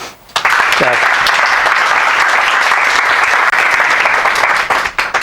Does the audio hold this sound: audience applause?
yes